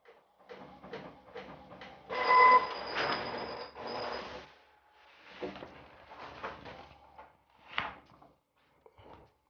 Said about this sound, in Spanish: Lo otro que tiene esta impresora es que imprime bastante rápido